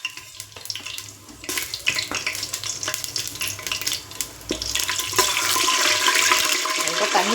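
Whole spices for chicken biryani frying in hot oil, a crackling sizzle with stirring clinks that builds into a loud, steady hiss, no voices.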